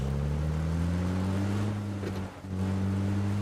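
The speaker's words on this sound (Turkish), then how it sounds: "Şimdi arabayla gidebiliriz." Car engine in the game PUBG, a steady low droning hum held at a constant pitch as the vehicle drives, with a brief dip midway.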